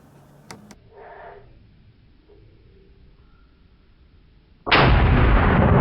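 A loud, close rifle shot during a Pennsylvania rifle-season buck hunt, fired at a deer, breaking sharply out of quiet woods after some faint rustling and light tapping.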